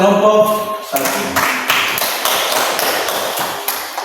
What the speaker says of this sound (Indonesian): berikan aplaus kepada kelompok satu